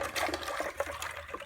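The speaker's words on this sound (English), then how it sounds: "Cool your tongs off too while you're waiting." Hot blacksmith tongs plunged into a bucket of ice water while cooling down during charcoal forging, giving a close, bubbling, gurgling wash of water that churns steadily for over a second, with no talking.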